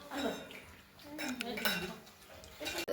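Dishes, pots and utensils clatter and clink in running water, with scattered metallic knocks up close and a bit of voice in the background.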